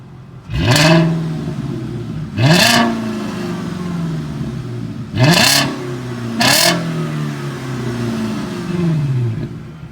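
A Volkswagen Passat W8 engine revs hard four or five times, each blip rising to a snarl then falling back to a steady idle, loud and close.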